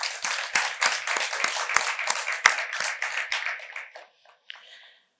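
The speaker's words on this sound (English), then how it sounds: "let's applaud those who cannot be here with us at this showcase reading tonight" Audience applause at a graduate showcase reading, a dense burst of many hands clapping for about four seconds before thinning to a few scattered claps.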